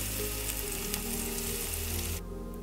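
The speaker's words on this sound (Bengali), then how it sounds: "রসুন কুচি এবং পেঁয়াজ কুচি একসাথে একটু ভালো করে বাদামি বাদামি করে ভেজে নিতে হবে।" Chopped onion and garlic fry together in a pan, producing a close, steady crackling sizzle that holds evenly before dropping away near the end.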